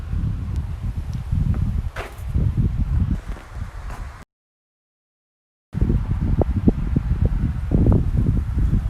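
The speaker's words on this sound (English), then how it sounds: "I don't know if you guys can hear the wind." Strong wind roars and buffets a microphone outdoors, a continuous low rumble with rustling gusts, briefly cutting out to silence midway.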